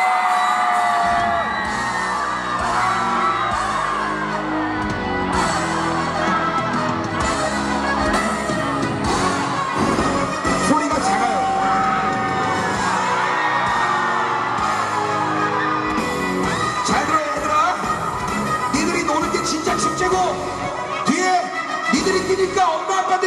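A large concert crowd at a scallop and seafood festival in Goseong shouting, whooping and cheering continuously over loud music, dense and energetic with yells rising throughout.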